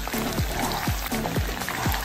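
Chicken wings for honey chicken sizzle in a pan with a steady hiss, while the pan is shaken to turn them, making a run of rhythmic sliding swishes close by. Nobody speaks.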